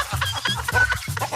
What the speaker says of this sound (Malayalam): ഇത് കോഴിയാണോ?